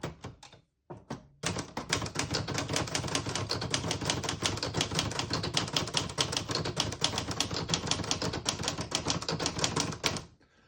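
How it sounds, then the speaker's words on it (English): A 1975 Olivetti Lettera 25 portable typewriter is typed on rapidly: after a few hesitant strikes, a long continuous run of crisp, close mechanical key clacks with no talking. "I'll type a sentence on the next line."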